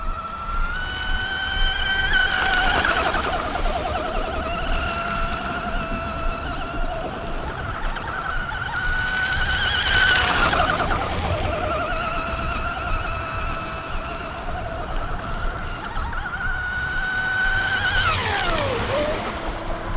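An RC car with a power upgrade lapping an oval at wide open throttle, a high whining motor that rises and falls in pitch as it passes on each lap, loud and continuous with wind-like background noise.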